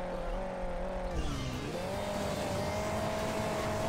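A super diesel car in Hill Climb Racing 2 drives with boost, its engine droning steadily, dipping briefly in pitch, then climbing and holding, with a faint rumble underneath.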